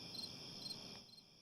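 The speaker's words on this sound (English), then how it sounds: "This is where my crickets live." Pet crickets kept in a box chirp in a steady high trill, faint and close, with a few pulsing accents before the sound thins out.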